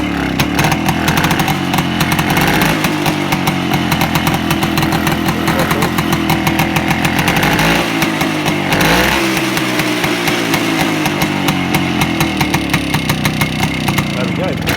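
A BSA Bantam motorcycle engine, restored after nearly 40 years off the road, fires up and runs loudly and close for the whole stretch, a dense rapid two-stroke buzz that revs up and down, with a voice briefly heard over it.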